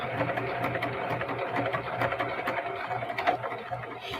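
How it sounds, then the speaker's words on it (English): A sewing machine stitching a small zipper coin pouch, a close, steady rapid mechanical whir with rhythmic needle ticks running throughout without pause. "And I'm going to back stitch. And then take it off the machine."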